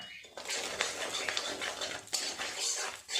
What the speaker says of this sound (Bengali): দু সেকেন্ড ফোড়নটা নেড়ে চেড়ে ভেজে নিয়েছি